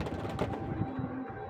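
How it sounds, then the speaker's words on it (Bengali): Native pigeons in a coop at a pigeon farm in Narsingdi give low, soft coos amid faint fluttering and shuffling, fairly close against a light background. "আর খোপের মধ্যে দেশি কবুতর"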